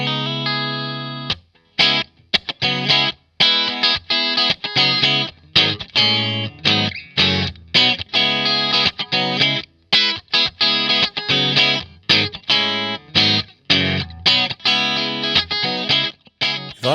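Yamaha Pacifica 212VQM maple-top electric guitar on the middle single-coil pickup, played in choppy, rhythmic funky strums and stabs with effects, loud and close, alone without talk.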